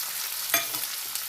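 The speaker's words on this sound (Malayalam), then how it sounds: "നന്നായി ഇളക്കി കൊടുക്കുക" Lemon pickle with chopped dates is stirred in a pan over a steady close sizzle, with one sharp scrape of the spoon and a couple of softer strokes, no talking.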